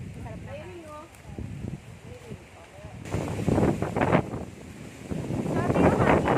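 Wind gusts buffet the microphone outdoors near Mampueng River and Mt. Susong Dalaga in Olongapo City, growing louder and rougher in the second half while people talk and call out underneath.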